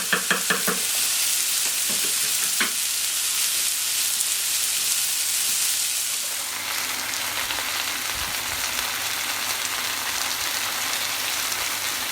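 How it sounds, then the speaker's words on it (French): Sage and chorizo jus reducing in a pan, a loud continuous sizzling hiss with a few clinks early on, easing slightly partway through, close and without talk. "Le jus réduit tout doucement."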